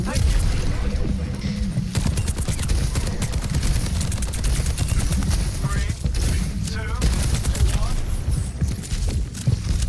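Soldier 76's rapid automatic rifle fire in a Grandmaster-level Overwatch match, heard as a dense continuous rattle of shots under busy game noise.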